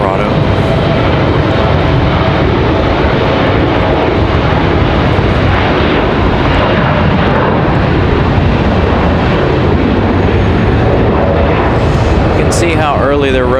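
A departing airliner makes a sustained, loud rumble with gusty buffeting as it rotates early into strong afternoon wind, the broadband roar holding steady throughout with faint tonal whines near the end.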